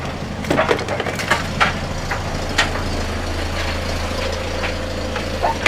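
Volvo 480 engine idling steadily just after a jump start, a constant low hum with a slight judder, joined by scattered clicks and knocks nearby.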